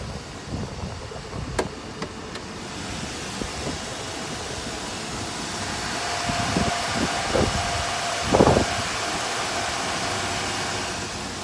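A Chevrolet Suburban with a failing transmission running, a steady engine drone with a faint whine on top and a few brief knocks and clicks.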